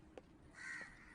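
Crows cawing in a Tamil village film scene, a short pair of harsh caws heard faintly over quiet ambience.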